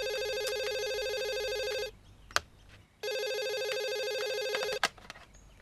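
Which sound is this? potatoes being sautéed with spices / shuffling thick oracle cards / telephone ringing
telephone ringing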